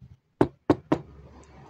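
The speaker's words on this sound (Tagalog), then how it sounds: "Tatlong katok ulit, pero mas malakas na ngayon." Three sharp knocks on a door, evenly spaced and close, sounding alone over a faint low room hum and followed by quiet.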